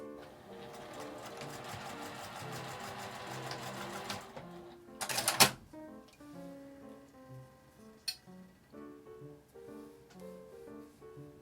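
A sewing machine bastes a strap onto the outer fabric of a lined tote bag made from IKEA cloth, running in steady rapid stitching bursts with pauses and small clicks between runs.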